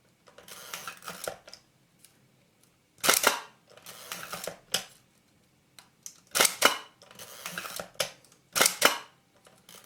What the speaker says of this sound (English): close the shutter again